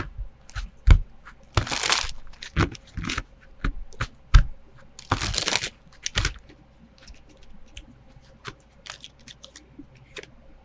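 Tarot cards shuffled on a slightly shaky table produce irregular bursts of riffling, flicking and tapping, close by and fairly loud, with pauses between.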